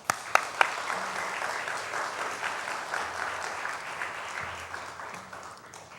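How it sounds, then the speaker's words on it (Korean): Audience applause at an anniversary revival church service, steady clapping throughout with a few sharp louder claps near the start. "우리 박수 한번 치고 보내겠습니다"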